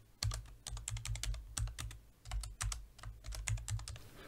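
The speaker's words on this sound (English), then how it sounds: "I had a bit of difficulty typing for some reason then" Typing on a computer keyboard to enter text in Inkscape, a quick irregular run of clicking keystrokes close by, steady for several seconds with brief pauses.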